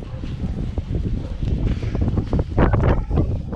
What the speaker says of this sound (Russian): Ветруган еще